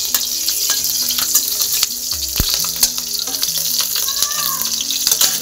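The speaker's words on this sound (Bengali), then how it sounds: "কাঁচা লঙ্কাটা একটু নেড়ে নেবো।" Green chilies sizzle in mustard oil in a pan, a constant bright frying hiss with scattered crackles and occasional scrape of a stirring utensil.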